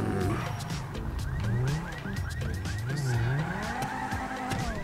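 A car in GTA 5 revs through wavering engine notes while its tires squeal and skid in short repeated bursts, loud and close throughout.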